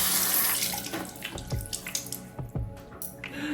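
Water running from a sink faucet onto hair during a curly wig install, a close splashing stream with uneven gurgles and drips as the flow shifts.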